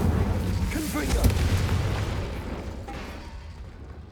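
The Confringo blast spell bursts in the video game Hogwarts Legacy on PS5, a loud booming explosion with a fiery roar that gradually fades over several seconds, with a voice briefly heard near the start.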